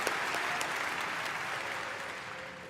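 Audience applause at BlizzCon for the Warcraft teams, a dense steady clatter of many hands filling the hall, loud throughout and slowly tapering toward the end.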